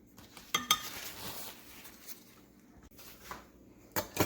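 A spoon stirs heavy whipping cream into a mug of keto coffee, with a few faint clinks against the cup and soft swirling between them.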